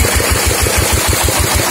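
A Kawamoto water pump driven by a 24 HP diesel engine runs loud and close, a rapid, even thumping pulse over a dense roar of rushing water and machinery.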